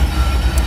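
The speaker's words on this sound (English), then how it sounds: "That's another Gevo." A GE Evolution series (Gevo) locomotive passes at a rail yard, its low, steady diesel rumble and rolling train noise continuous and fairly loud throughout the short moment.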